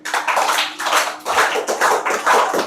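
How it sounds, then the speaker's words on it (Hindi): A classroom of students claps for a girl who scored 9 out of 10 on a weekly test, a steady burst of close, moderately loud hand claps lasting a few seconds with no talk over it. "इस बहन के लिए तालियां।"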